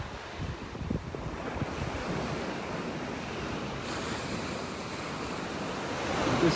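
Ocean surf breaks and rolls steadily onto a beach in North Naples, Florida, in bad weather, with a continuous broadband roar and wind buffeting the microphone, swelling slightly louder near the end.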